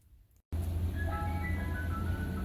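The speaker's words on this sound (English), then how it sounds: "Ooh, I hear the ice cream truck, even though it's dark out." An ice cream truck's jingle plays outside after dark, a steady melody of thin chiming notes heard from a distance over a low background hum.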